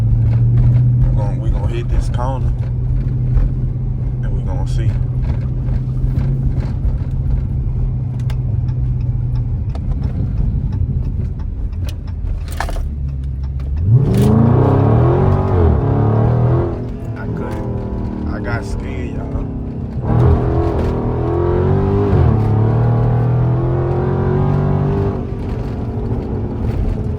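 Widebody Dodge Scat Pack engine drones steadily, then surges loudly as the car accelerates hard on the road, with rising engine pitch sweeps near the midpoint and again later.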